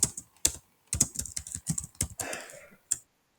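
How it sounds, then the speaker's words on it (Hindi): Someone types an email address on a computer keyboard, giving a quick uneven run of close, crisp key clicks over about three seconds with no talking. "तो अपनी ईमेल आईडी एंटर कर लेंगे"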